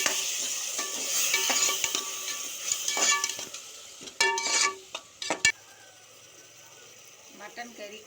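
Mutton biryani masala with tomato and curd is stirred in a pot, with intermittent scraping and clinks of a spoon against metal over a soft sizzle, some bursts louder and closer, with a voice at times.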